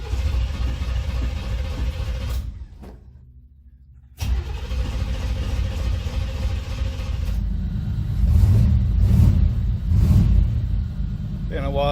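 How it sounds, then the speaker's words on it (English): A 1961 Chevrolet Bel Air engine cranks hesitantly, briefly cuts out, then catches and settles into a steady, loud rumbling idle with a few mid-clip throttle swells. "Engine start."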